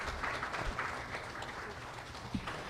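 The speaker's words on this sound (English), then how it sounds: "Let us give the President a round of applause." Audience applause at a presidential contract signing event, a steady, fairly faint wash of clapping sustained throughout with a few louder claps standing out.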